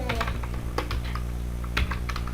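Keys clatter on a computer keyboard in a short burst of quick taps with a louder press near the end, close and without voices.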